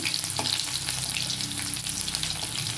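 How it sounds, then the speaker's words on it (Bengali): Chopped onion frying in hot oil seasoned with panch phoron for an okra curry, giving a loud, steady sizzle with occasional stirring scrapes and no talking. "আমি পেঁয়াজটা দিয়ে দিলাম এর মধ্যে এবার পেঁয়াজটা এর মধ্যে দিয়ে দিলাম তা পেঁয়াজটাকেও আমি ভেজে নেব একটুখানি"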